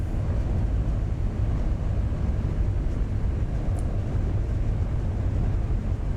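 A single-engine aircraft running up on the ground in the X-Plane 12 flight simulator at Cincinnati (KCVG), a steady, loud low-pitched engine drone that holds evenly without breaks.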